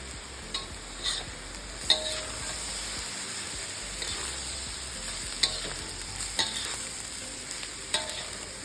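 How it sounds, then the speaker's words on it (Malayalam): Rice, egg and soy sauce stir-frying in a pan, a steady quiet sizzle broken by repeated scraping stirs at an irregular rhythm. "കുറച്ച് സോയ സോസ് ഒഴിച്ച് കൊടുക്കാം. അരിക്കൂടെ എന്നിട്ട് നമുക്ക് റൈസും കൂടെ ഇട്ടിട്ട് മിക്സ് ചെയ്തെടുക്കാം."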